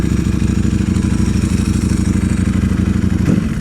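A Ducati Streetfighter V4 motorcycle exhaust rumbles loud and close while riding, a continuous throaty engine drone with rapid pulsing firing beats and some clatter over wind.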